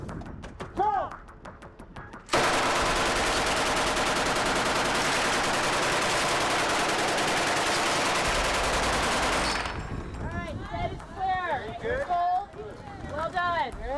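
Automatic gunfire erupts during a film set shootout outside a compound for the final Breaking Bad episode, a loud, continuous roar lasting about seven seconds. Voices are heard briefly before it and crew members talk and cheer after it stops.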